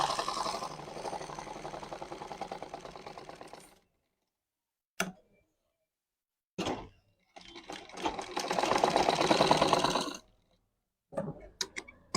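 A sewing machine stitching a pant pocket runs in a long burst of rapid, close clattering. It stops, then comes back in short spurts and another sustained run, separated by silence.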